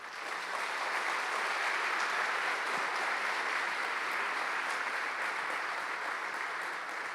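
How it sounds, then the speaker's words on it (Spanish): A church congregation gives a strong round of applause to the Lord, a steady, dense wash of many clapping hands that holds at an even level throughout without any speech. "Si lo crees, dale un fuerte aplauso al Señor"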